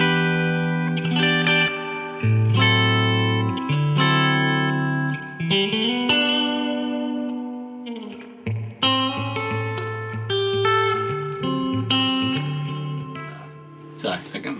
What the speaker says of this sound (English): that's meant to be like a 60s spring type reverb, as you would find in clean amps that are made in America in the 60s